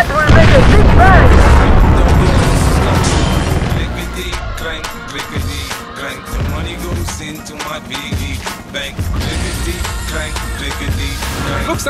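A fuel canister blows up with a heavy boom amid rapid gunfire in the Blood on the Sand video game, with loud bursts and crackling shots continuing as the blast fades, and game voices speak over the action.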